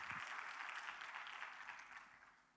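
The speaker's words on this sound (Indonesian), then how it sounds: "Boleh kasih tepuk tangan yang meriah buat Tuhan Yesus" An Indonesian church congregation applauds during a thanksgiving Sunday service, dense, even clapping from many hands that gradually tapers off, fairly faint.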